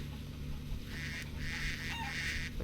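Ducks in the zoo game Wildlife Park 2 give a few short nasal honking quacks over a steady background hum, brief and moderately close, with no talk.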